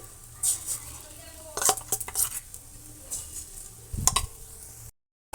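Lentil fritters (bora) for a vegetarian bottle gourd curry in a kadai, a soft low sizzle broken by several sharp metal scrapes and clinks of a spatula against the pan, close by, ending abruptly in silence.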